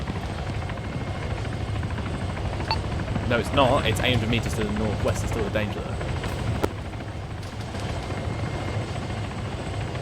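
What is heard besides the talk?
helicopter landing nearby, from the video game Arma 3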